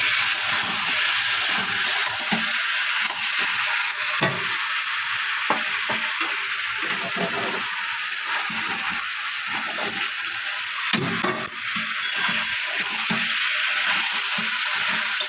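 Raw banana slices frying in a pan, with a steady close sizzle and light stirring scrapes running throughout, no voices.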